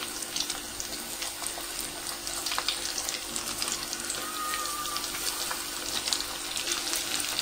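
Chicken pieces for homemade KFC-style fried chicken sizzle steadily in very hot oil, a continuous close crackling hiss with no talking.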